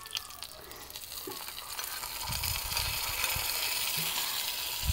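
Buttermilk chillies and urad dal frying in a hot oil tempering for a curd gojju; a steady, soft sizzling hiss grows slightly louder over several seconds, with faint stirring in the background.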